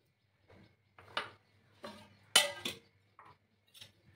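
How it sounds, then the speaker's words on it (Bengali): Semolina is poured into a bowl in a few quiet separate bursts, soft rustling grains with light clinks against the bowl, spaced irregularly and faint against near silence. "এবার আমি একটা বাটির মধ্যে সুজিটাকে ঢেলে দিচ্ছি"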